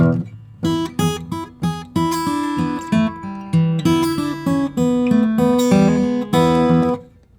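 Acoustic blues guitar plays a riff with shuffling bass notes underneath, in clear repeated plucked phrases on a steady rhythm, up close with no talking.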